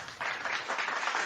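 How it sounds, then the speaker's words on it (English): One person claps briefly, a short burst of fairly close hand claps lasting about a second. "I'm applauding you for that 35th birthday."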